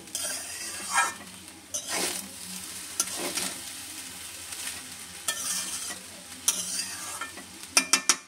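Leftover rice frying in ghee is stirred in a pan, a soft sizzle broken by scraping strokes at irregular intervals and ending in a quick run of sharp clinks from a utensil against the pan, close and moderately loud.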